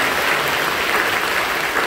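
Church congregation applauding during a praise worship service, an even, continuous roar of many hands clapping at moderate loudness with no break.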